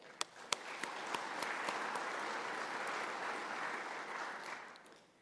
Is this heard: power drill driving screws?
no